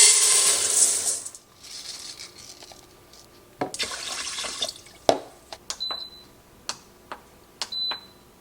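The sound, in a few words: washing green beans under the kitchen tap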